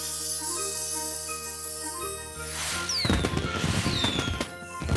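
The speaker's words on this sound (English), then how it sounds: "this fireworks beam will do its thing." Cartoon magic fireworks beam from a fairy's whisk in a cafe, a bright sparkling burst and rising whistles over a bed of music, loud and close, ending in crackling pops.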